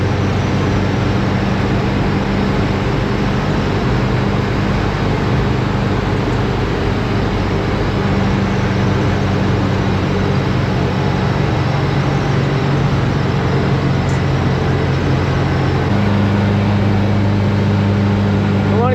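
A VW bus engine climbs hills in third gear, a loud continuous low drone with a steady hum from the engine that shifts its pitch slightly partway through, heard from inside the vehicle.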